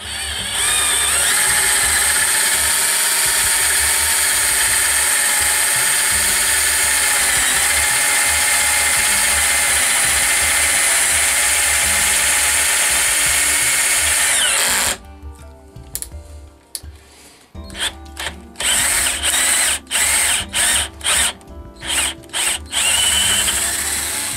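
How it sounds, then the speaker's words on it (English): A steady, loud mechanical whir runs for about fifteen seconds, then breaks into short stuttering bursts of a power drill starting and stopping while drilling a drain hole in a native bee box. "So I'm about to drill that now."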